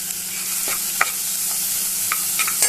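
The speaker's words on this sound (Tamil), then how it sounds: "வெங்காயம் பச்சை மிளகா தேவையான அளவு உப்பு நல்லா வதக்கிக்கலாம்" Onion and green chili sauté in ghee with salt, a bright continuous sizzle up close with a few sharp spatula scrapes and taps against the pan, with no one talking.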